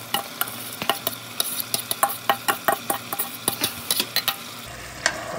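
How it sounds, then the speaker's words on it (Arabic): Rice for stuffed chicken kabsa is stirred in a pot, a steady series of close, rhythmic scraping and clinking strokes about every quarter second over a low bubbling simmer. "خلاص نحرك الرز"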